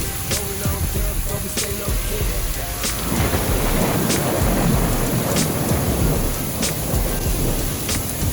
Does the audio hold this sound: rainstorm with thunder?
yes